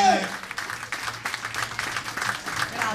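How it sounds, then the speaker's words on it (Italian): An audience at a folk gala bursting into applause, dense continuous clapping from a crowd that fills the room, loud and sustained after a brief voice at the start. "Facciamogli un forte applauso."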